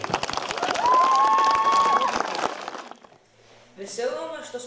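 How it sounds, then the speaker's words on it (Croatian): An audience gives a burst of applause to welcome visiting exchange students, dense clapping for about three seconds with a whistled note inside it, then it fades and a voice begins speaking. "pa vas molim da ih pozdravite jednim aplauzom"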